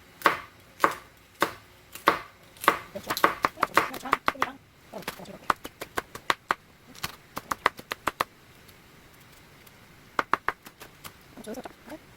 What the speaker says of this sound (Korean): 그 물이 끓는 동안에 청양고추랑 깻잎을 썰어 보도록 할게요